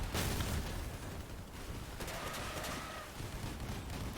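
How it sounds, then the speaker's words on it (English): Trombone weapons firing in the vehicle combat game Crossout, a continuous roaring barrage of blasts that stays loud and unbroken throughout. "So I make one pass to fire the trombones and then another pass to fire the pyres"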